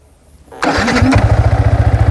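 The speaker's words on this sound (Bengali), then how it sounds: "আমি বাইক এখন স্টার্ট করব" A motorcycle engine is started up close: near-silence, then the engine catches at once and settles into a steady, throbbing idle with a quick regular pulse. No one speaks.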